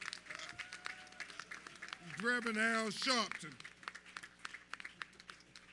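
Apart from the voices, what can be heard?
audience applause for civil rights leader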